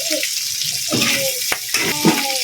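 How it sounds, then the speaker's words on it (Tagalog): Pork pieces crackling and sizzling in a hot frying pan, with a steady hiss broken by sharp pops and a few louder crackles, close up and under faint talk. "pag ganyang lumalagatik-lagatik na guys, sinyalis na yan"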